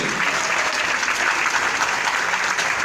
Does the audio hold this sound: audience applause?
yes